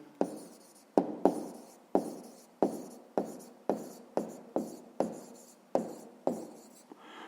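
A pen writes an answer in a grade 5 maths exercise, a dozen sharp taps and scratches at a regular pace, close and quiet with no talk.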